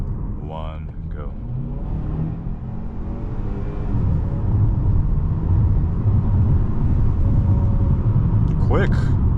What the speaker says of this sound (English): Alright, we'll just do a rough acceleration.